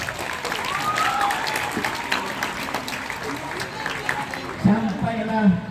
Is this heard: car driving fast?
no